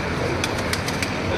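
Pigeons at a breeder's loft, several brief wing-flutter bursts over a steady low murmur of cooing and background noise.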